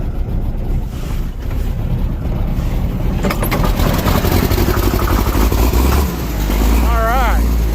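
Old pre-emissions-era tractor engine catching and running with a low, rough rumble that swells up after a few seconds of starting effort outdoors, with wind buffeting the microphone and a voice speaking briefly.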